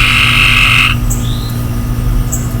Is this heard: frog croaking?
yes